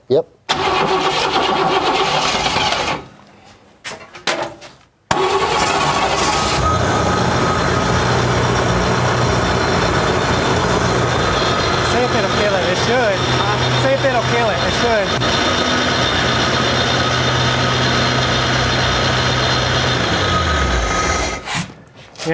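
A 1957 Chevy Bel Air engine, not run in 35 years, cranks and catches, then settles into a loud, steady, fast idle that runs on for many seconds before cutting off.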